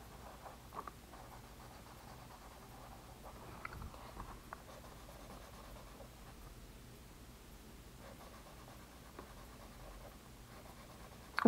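A pen or marker coloring in a yellow area of a pixel art drawing, producing faint, continuous scratchy strokes with small taps and rustles, close but quiet over a low background hum.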